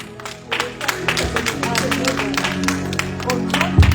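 Church congregation applauding during a French-language worship service, a steady wash of many hands clapping at moderate loudness with voices and music underneath throughout.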